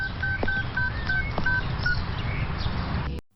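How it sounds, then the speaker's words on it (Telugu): Phone dialing tones in a movie scene: a quick series of short electronic keypad beeps, about eight evenly spaced presses, over a hissy background, ending abruptly. "నేను ఇప్పుడే వర్షకు ఫోన్ చేస్తాను"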